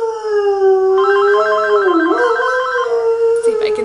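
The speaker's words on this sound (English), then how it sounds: "I'm gonna answer, but I wanna let Bosley howl." A dog howls in one long, wavering, sustained note that rises and dips. A telephone rings at the same time, and its warbling tone overlaps the howl, loud and close.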